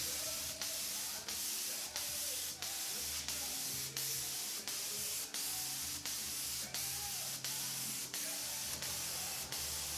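A spray gun lays a red-orange tinted finish coat onto an electric Telecaster Thinline guitar body, giving steady hissing bursts repeated in a regular rhythm, each short pause between passes, close and alone.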